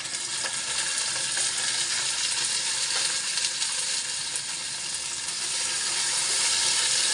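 Garlic tossed into onions already frying in hot oil gives a loud, steady, close sizzle that hisses without break from start to finish, with no voices.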